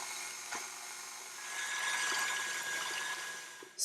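An electric mixer beats cream cheese and icing sugar in a bowl, a steady, moderately quiet whirring hum with a faint whine that rises slightly midway and ends in a louder burst.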